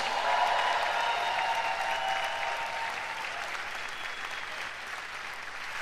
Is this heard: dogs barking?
no